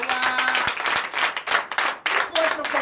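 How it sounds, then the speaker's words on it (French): A church congregation claps and applauds during a night deliverance and prophecy service. The clapping is loud and uneven, with bursts and short dips, and voices are heard over it. "Donnez l'acclamation."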